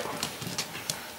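Horse hooves clip-clopping, three spaced, faint hoof strikes over a steady background hiss, with no talking.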